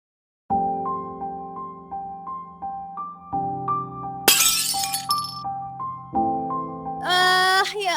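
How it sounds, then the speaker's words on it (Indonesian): A skincare product drops and shatters, a bright burst of breaking glass followed by a second crash, heard over a steady musical background with no speech. "Lihat nih, skincare aku jatuh, jadi pecah gini."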